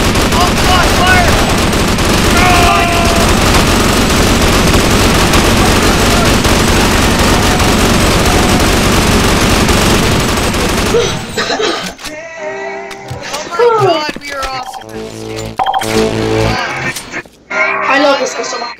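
Dense, continuous automatic gunfire from a Sven Co-op match roars loud and unbroken for several seconds, then cuts off into quieter scattered game sounds with voices talking.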